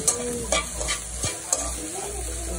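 Grasshoppers sizzle as they fry in hot oil while they are stirred and scraped in the pan, with a few short clinks and brief bursts of crackling.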